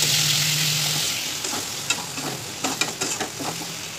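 Turmeric and chili paste sizzles in a hot pan for chicken curry, a steady frying hiss that settles, then a few sharp spoon scrapes and stirs near the end.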